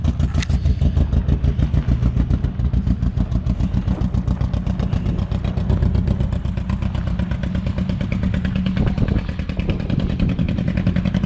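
A barn-find BMW engine runs close by, loud and steady, with a rapid, even pulsing beat and mechanical clatter throughout, alone with no talking.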